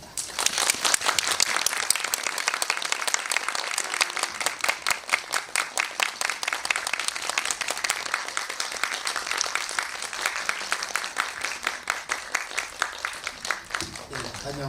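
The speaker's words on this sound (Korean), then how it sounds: "김다미 감독님과 강나은 배우님께 뜨거운 박수 부탁드립니다." An audience at a film screening Q&A gives sustained applause as a director and actress come to the stage, rhythmic clapping running throughout and tapering at the very end.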